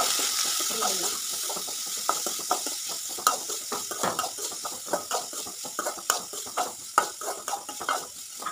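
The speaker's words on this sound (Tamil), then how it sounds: "வெட்டி வச்ச பீட்ரூட்டையும் போட்டு நல்லா வதக்கி விடணுங்க" Beetroot tossed with onion and dried red chillies in a pan, a spatula scraping and rattling in quick, uneven strokes over a soft sizzle, close and moderately loud, with a voice talking over it.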